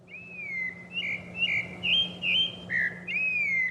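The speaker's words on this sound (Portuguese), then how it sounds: "esse é um sabiá laranjeira paulistano da gema" A rufous-bellied thrush from São Paulo sings a run of clear, whistled phrases, about seven notes in quick succession, close and distinct over a low steady hum.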